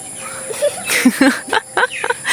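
Several chickens cluck and squawk in short, irregular bursts nearby, with some high-pitched calls mixed in.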